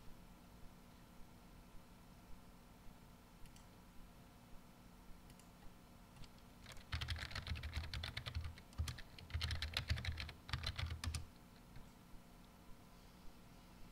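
Typing on a computer keyboard to log in as root and set a password on an HP 712 workstation running NeXTstep, a dense burst of close keystrokes lasting several seconds between quiet stretches.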